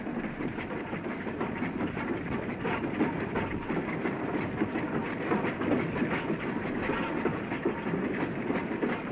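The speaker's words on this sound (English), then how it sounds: "See the fringe of Sedgemoor from the footplate of a goods train." A goods train on a single-track branch line rumbles steadily along, heard from the footplate, with rhythmic clattering wheels and a hissing undertone, continuous and fairly close.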